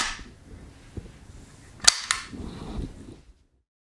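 A Carcano cavalry carbine is test fired, giving one sharp, loud report followed by a brief echo amid faint background noise, then silence.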